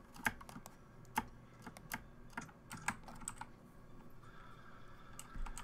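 Computer keyboard typing during a Terraria session, with irregular bursts of clacking keystrokes and a few sharper louder taps, close and fairly quiet over a soft background hum.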